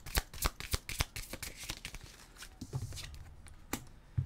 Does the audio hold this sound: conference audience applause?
no